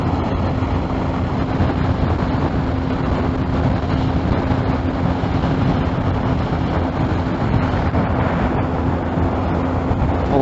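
A BMW R1250R motorcycle engine pulling under throttle on a test ride, a loud, steady drone mixed with wind rush and road noise throughout, no talking.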